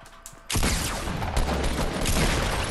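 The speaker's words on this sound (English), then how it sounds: "The way it works is you shoot your pump, switch to the other one." Fortnite pump shotgun blasts and weapon switching in a dense, loud burst of gunfire that starts abruptly after a brief quiet lead-in and keeps going with repeated sharp reports.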